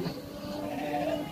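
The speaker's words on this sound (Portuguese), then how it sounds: "São 9 borregos, 9 borregos e 6 ovelhas." Sheep and lambs for sale on a farm in Dois Riachos, Alagoas, Brazil, a flock of ewes and young lambs bleating in an overlapping, wavering chorus, moderately near.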